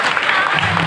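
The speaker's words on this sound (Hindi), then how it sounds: "कविता खत्म करता हूँ, तालियां बजाइए।" Brief burst of audience applause at a children's poetry recital, dense and loud clapping from a crowd filling the whole moment.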